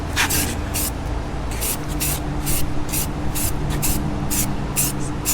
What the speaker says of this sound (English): We just got rattle can automotive primer. So I'm just gonna spray it in here